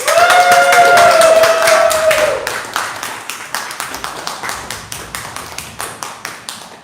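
A comedy club audience claps and cheers for the comedy group Dutch Angle, with a dense burst of applause and a voice over it that thins into scattered individual claps.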